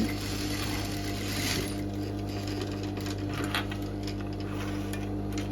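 Sewing machine stitching across a medal ribbon for swing-mounting British Army medals, a steady close mechanical whir with rhythmic needle ticking running continuously, no voices.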